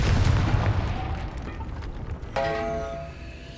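A Confringo blasting spell explodes in the Hogwarts Legacy video game: a heavy low boom rolls out and fades, followed by a bright ringing burst with a shimmering tail, loud and with no talk.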